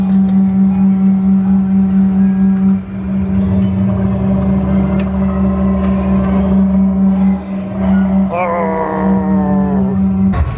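Engine drone from a 1981 Turbo arcade racing cabinet in an arcade museum, a loud steady buzzing hum running the whole time with brief dips and a rising rev near the end.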